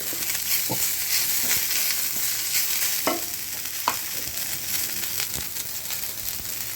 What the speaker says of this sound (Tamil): அப்புறம் ஒரு கை நிறைய புதினா இலையை எடுத்து அதில் வதக்குறோம்